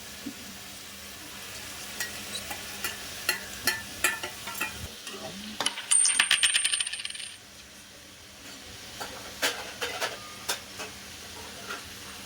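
Dry ground spices (turmeric, red chilli powder, pulao masala and garam masala) go into a pan for a simple pulao and get stirred, giving repeated close scraping clinks and a soft sizzle, plus a brief clatter in the middle, without speech.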